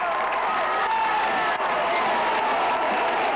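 Home crowd roaring and cheering at a 1995 college football game as the defense faces fourth and a yard, a dense, steady wall of voices and applause close by, with no single speaker standing out.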